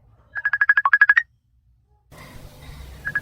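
Cellphone ringtone for an incoming call, a rapid run of about a dozen bright electronic beeps, loud and close, followed by a pause and then a faint room background with one more short beep.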